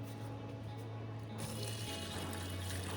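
Water is poured to fill containers, a faint, steady trickling splash that brightens and grows fuller partway through, heard over a low hum.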